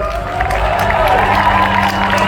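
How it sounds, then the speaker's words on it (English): A convention audience applauds and cheers for an author, a loud continuous wash of clapping and crowd noise with a few whoops. "big round of applause"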